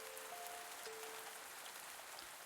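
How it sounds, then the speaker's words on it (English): Rain falls in the farming video game Pumpkin Days as a soft, steady hiss of raindrops, faint and even throughout, with a couple of light tonal chimes above it and no voices. "I think it's probably raining again today."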